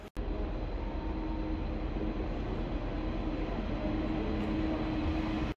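A Dutch passenger train runs steadily through the Netherlands, its constant rumble and rolling rail noise filling the space without a break, heard from inside the carriage with no voices.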